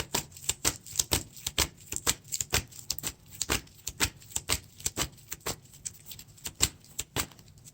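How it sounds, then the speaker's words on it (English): Lord of the Rings card game encounter deck shuffled by hand, a steady run of crisp card snaps and riffles repeating throughout, close and fairly loud with no voices. "Shuffle the encounter deck."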